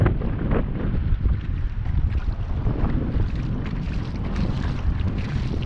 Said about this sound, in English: That wind's coming straight at me.